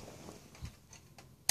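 The throttle body of a Mercedes SL600, a unit from a 1993 car, twitching when power is applied: faint, irregular small clicks and ticks in a quiet room, ending in one sharper, louder click.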